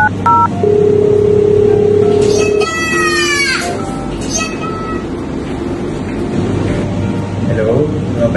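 Telephone keypad tones beep at the start of an office call to a job applicant, followed by a ringing or rising tone, with hum and faint background noise throughout.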